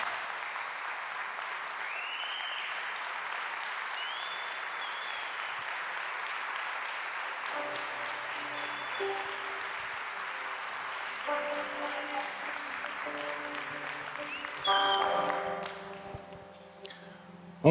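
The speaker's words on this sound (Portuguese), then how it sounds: "Dê uma salva de palmas ao Senhor Jesus." A church congregation claps for Jesus, a steady wash of applause that carries on for many seconds, joined partway through by soft sustained keyboard tones and a brief louder swell near the end.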